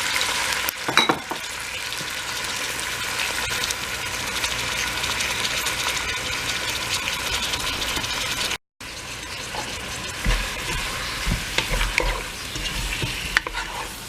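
Chicken pieces sizzle and fry in a pot with ginger while being stirred and browned for Filipino tinola soup; steady close frying hiss with occasional scraping stirs and a brief cut partway through.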